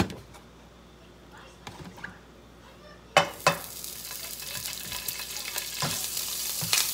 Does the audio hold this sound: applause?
no